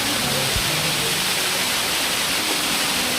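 Water pours down at the Alasandhrapuram forest falls as a loud, unbroken hiss, heard close and filling the whole moment without pauses.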